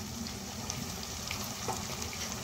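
Chopped tomatoes and salt frying in a pan for soya chunks pulav: a steady, close sizzle and crackle throughout, with faint stirring and no talking.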